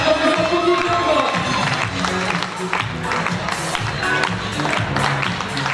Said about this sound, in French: Alors, vous applaudissez encore.